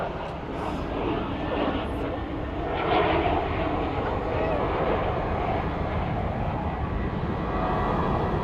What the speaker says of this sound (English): Oh, that's a military plane.